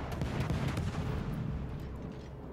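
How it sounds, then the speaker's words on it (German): Naval artillery fire from a German-language World of Warships ranked battle with the cruiser Colbert, booming gunfire and rumbling blasts continuing steadily and loudly throughout with no speech. "Hoffen wir, dass ich jetzt hier unsichtbar bleiben kann beim Schießen."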